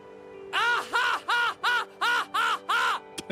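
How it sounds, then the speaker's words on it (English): Seven bird-like squawks from a creature in the Final Fantasy X video game, evenly spaced rising-and-falling cries over a steady game hum, loud and close. "It sounds like a bird."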